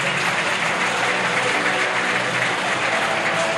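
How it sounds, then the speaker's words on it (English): A stadium crowd applauds to welcome rugby league players onto the field before a Featherstone v Dewsbury match, a dense, steady wash of clapping with no voices on top. "Please give a massive round of applause and welcome them to the Big Fella Stadium."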